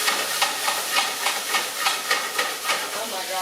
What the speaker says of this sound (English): We are stir frying.